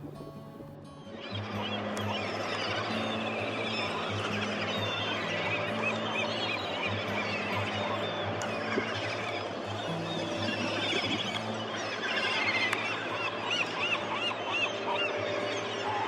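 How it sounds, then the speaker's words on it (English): Seabirds crowd around fishing boats coming in at Tokeland, Washington, in a feeding frenzy on leftover bait, their dense, continuous calling and honking cries rising steadily over a low engine hum. "all the birds were in a feeding frenzy"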